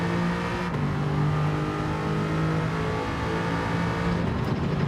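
Race car engine in Gran Turismo 7 racing game, a steady loud drone with a strong low tone that holds throughout, shifting slightly in pitch near the end, with no talking over it.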